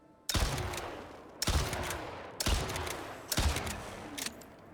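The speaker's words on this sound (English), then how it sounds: "Let's see how the kinetic rifle is doing with the exploding bullet." Four heavy rifle blasts from a kinetic rifle loaded with exploding rounds in the survival game Icarus, spaced about a second apart, each with a sharp crack and rumbling decay, loud and close with no talk.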